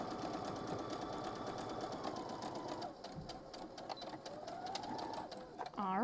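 A sewing machine runs close up, stitching and back stitching fabric in a fast rhythmic whir that slows and pauses briefly, with a voice speaking over it.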